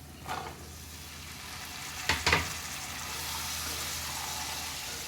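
Pieces of cut spiny gourd fry in a pan with a steady, close sizzle, broken by a couple of quick stirring scrapes just past the midpoint.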